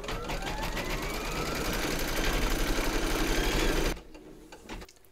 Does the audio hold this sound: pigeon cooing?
no